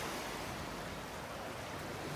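Sea waves wash onto the shore at night on the coast at Holetown, St. James, Barbados: a steady, close hiss of surf with some wind noise on the microphone and no voices.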